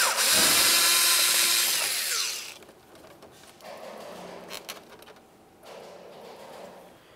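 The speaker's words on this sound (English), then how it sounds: "we're going to remove this Phillips head screw" A screw is driven out of a 2000–2006 Chevrolet Tahoe door panel with a power driver. A loud, close whir lasts about two seconds, followed by quieter handling and rattling noises.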